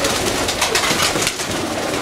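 Pigeons eating pellet feed coo repeatedly at close range, with overlapping soft throaty calls and faint pecking and rustling underneath.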